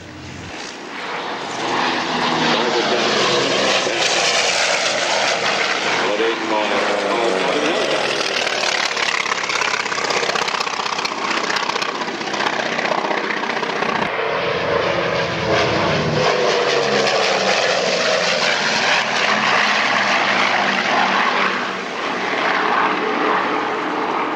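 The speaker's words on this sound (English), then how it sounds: "His wingman, Stephen Gray, in the Bearcat." A Grumman Bearcat propeller fighter plane roars loudly and steadily overhead at an air show, its engine drone filling the air throughout with a brief dip midway.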